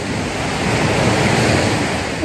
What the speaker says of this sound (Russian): Шум моря. Просто обожаю.